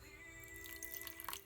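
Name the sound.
water added to pie dough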